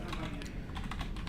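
Typing on a computer keyboard while writing a C program to calculate factorials, with rapid, close key clicks in a steady patter over a short burst.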